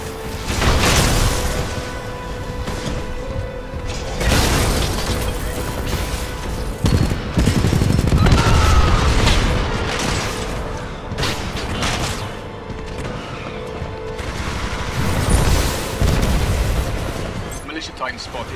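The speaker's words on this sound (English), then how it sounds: "Warning. Warning. World up low, I'm on fire." Dense, loud Titanfall 2 battle din of continuous gunfire and booming explosions around a damaged, burning Titan, with a synthetic warning voice speaking over the chaos.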